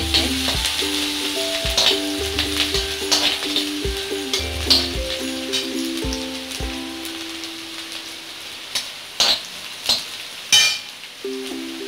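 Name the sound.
stir-frying ginger and chopped chilies in a pan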